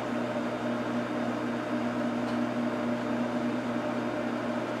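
A running microwave oven gives a steady, close electrical hum with a constant low drone and broadband whir, continuous and unchanging for the whole stretch with no talking.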